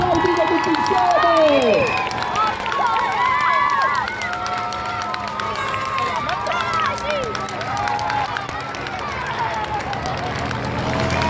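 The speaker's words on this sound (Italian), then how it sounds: "applaudite tutti insieme!" A roadside crowd at a Giro d'Italia cycling stage in Cerreto Sannita claps and cheers in a steady, dense wash, while an amplified announcer's voice rings out loudly over the noise.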